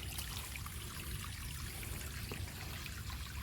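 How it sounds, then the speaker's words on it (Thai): Water flows steadily into a rice paddy in rural Udon, Thailand, a continuous close trickling and gushing with no voices over it. "น้ำกำลังไหลมา"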